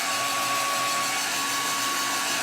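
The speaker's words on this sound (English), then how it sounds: "Let me hit this with blow dryer." Blow dryer blasts air steadily to dry craft paint on a home decor piece, a loud constant whooshing hiss with a faint high whine and no breaks.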